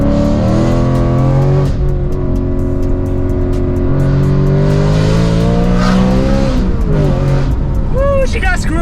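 A supercharged BMW M3 engine revs hard and loud, its pitch climbing in repeated rising sweeps through the gears, with a brief squeal of tires near the end and excited voices underneath.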